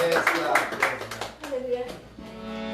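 A congregation claps during worship, a few loud rhythmic claps at the start that give way to voices speaking and singing.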